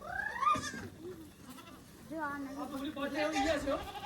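A large goat bleats on a farm, with wavering calls near and loud, repeating over people talking.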